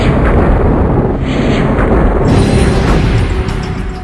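Explosion sound effect standing in for a comet fragment striking Jupiter: a loud, deep, sustained roaring blast that rumbles on for several seconds and slowly fades, with no voices.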